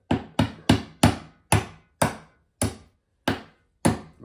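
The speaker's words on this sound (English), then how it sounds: "Probably gonna take a hammer to put it back together." A hammer drives the mid drive shaft back into a Traxxas XRT 12s belt-driven monster truck, striking nine sharp, evenly spaced blows, close and loud with no talking.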